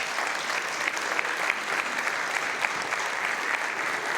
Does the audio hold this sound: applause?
yes